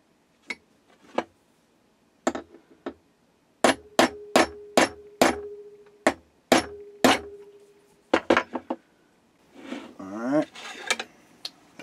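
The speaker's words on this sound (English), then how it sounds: "To prevent my drill bit from walking, I'm gonna center punch this." Sharp metallic strikes ring out in quick succession, a string of hammer taps on a center punch marking a steering link part for drilling, loud and close, with some quieter handling noise between.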